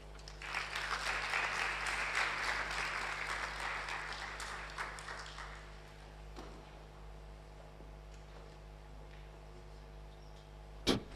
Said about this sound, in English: one more time, round of applause for Senator Chris Anyanwu